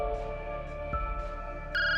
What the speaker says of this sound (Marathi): तितक्यात त्याचा फोन वाजला.